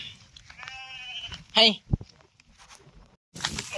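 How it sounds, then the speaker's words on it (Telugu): A sheep bleats loudly once, a short harsh cry, in a village field while someone talks nearby and footsteps shuffle. "మన గొర్రె అయితే చూడాలి ఎట్లు ఉరుకుతానే నీళ్ళకైతే"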